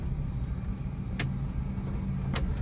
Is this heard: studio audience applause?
no